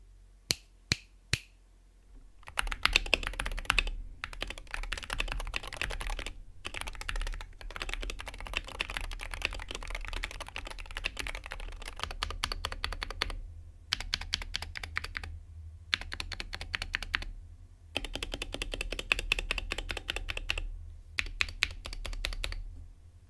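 Typing on a Wooting 60HE keyboard with pre-lubed stabilizers: a few isolated keystrokes give way to rapid, continuous bursts of crisp clacking, broken by brief pauses, close and without voices.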